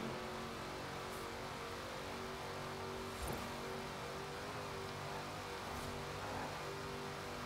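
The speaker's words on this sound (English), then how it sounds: "Oh, I do love a supercharged V8." Supercharged V8 engine in Forza Horizon 4, a steady droning hum with tonal harmonics held at a low, even level, faint and distant with slight surges in pitch.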